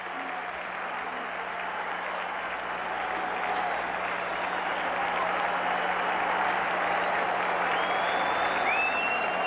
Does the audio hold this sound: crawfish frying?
no